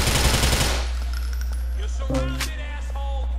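Gunfire in GTA IV starts with a dense, loud burst of rapid shots that quickly cuts off. Sharp metallic clinks and short tonal blips follow over a low, steady hum.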